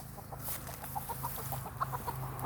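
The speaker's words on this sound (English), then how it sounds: "Agitated hen." An agitated hen in a coop clucks in a quick run of short, anxious notes, fairly faint and somewhat distant, over a low steady hum with no talk.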